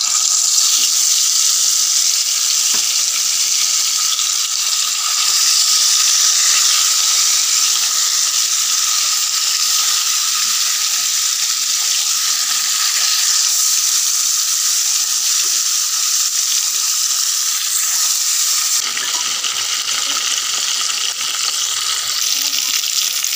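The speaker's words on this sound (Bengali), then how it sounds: "এবার মাছগুলো দিয়ে দিব।" Rupchanda fish frying in hot oil in a wok, village-style cooking: a loud, steady hiss of sizzling oil runs without a break for over twenty seconds, with a brief dip in intensity near the end.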